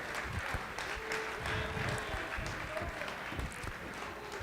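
Audience applause fills a banquet hall at an awards dinner after an auction sale, steady clapping from many hands sustained at moderate level throughout, with faint voices mixed underneath.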